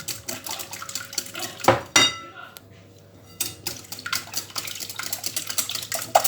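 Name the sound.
stirring mouskoutchou cake batter in a bowl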